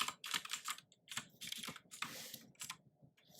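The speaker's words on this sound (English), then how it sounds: "After that, you have to just type resolution." Keys clatter on a computer keyboard in quick irregular bursts with short pauses between them, close and clear, and no one speaks over the typing.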